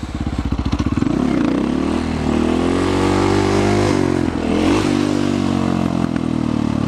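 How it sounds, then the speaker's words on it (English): Motorcycle engine revving hard up close, opening with rapid pulsing, then climbing to a loud sustained high-rpm roar with a brief dip near four seconds before surging again. "Try not to let my bike rev out that high."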